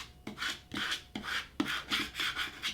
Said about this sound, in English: take my scraper tool just to make sure it transfers on over.